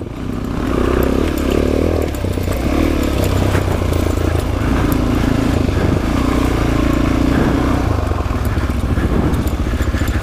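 Suzuki DR-Z dual sport motorcycles ride on a group trail outing in Parsons, West Virginia, engines droning steadily and loudly close by for the whole stretch, with revving changes and clatter but no talk.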